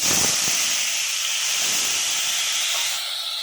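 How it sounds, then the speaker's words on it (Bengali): Tomato dropped into hot oil spiced with bay leaf, cumin and garam masala erupts in a loud, close hissing sizzle that stays strong for several seconds before easing slightly. "এবার আমি টমেটোটা দিয়ে দিচ্ছি।"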